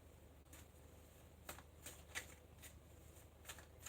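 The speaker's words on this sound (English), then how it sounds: "I'm just giving the cards a really good shuffle." Soft, quick riffles and taps of tarot cards being shuffled close by, in irregular bursts over a quiet background.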